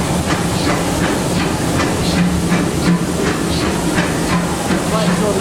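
A Disneyland Railroad steam locomotive's boiler is blown down, giving a loud, steady roaring hiss heard from inside the cab over a rumbling, rattling ride, with no gaps.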